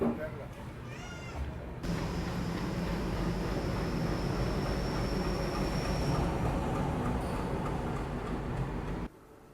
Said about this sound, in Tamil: ஸோ நம்ம ட்ரெயின் பார்த்தீங்கன்னா இப்போ ஈரோடு அரைவல் ஆயிடுச்சுங்க